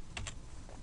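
A few quick taps on a computer keyboard, two close keystrokes followed by a softer one, faint and brief in a quiet room.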